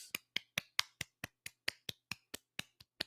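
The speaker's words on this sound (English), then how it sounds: "Clap for yourselves." A single person claps their hands about fourteen times in a steady, even rhythm, each clap crisp and close with nothing else heard.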